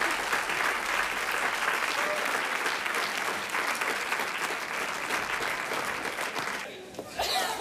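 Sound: audience applause after a performance

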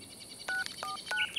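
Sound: telephone dialing tones in cartoon

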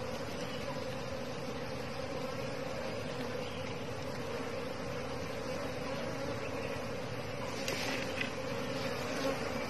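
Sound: wild forest bees buzzing around a hive

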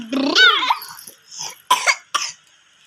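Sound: child coughing

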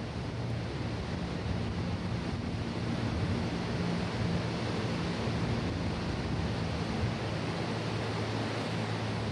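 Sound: waterfall roar and wind storm at Angel Falls

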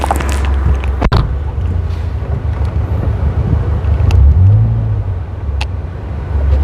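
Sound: Toyota Vios manual sedan being driven

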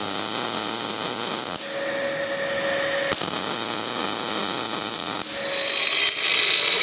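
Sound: welding a patch into a David Brown 990 tractor fender

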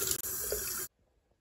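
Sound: water filling a container from a tap

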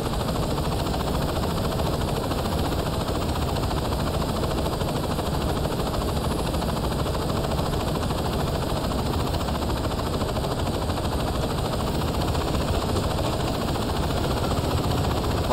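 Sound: attack helicopter in video game Saints Row 2

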